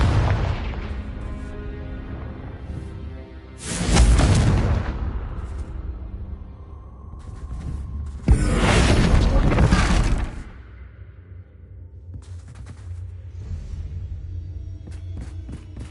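Confringo fire spell blasts in the Hogwarts Legacy video game, two loud booming explosions a few seconds apart, each with a roaring burst that fades over a low background rumble.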